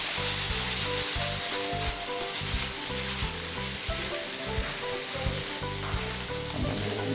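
Food sizzles steadily in a hot pan with chili flakes as it is stirred, a dense continuous fry with rhythmic scraping strokes of the spoon throughout, close and loud with no talking.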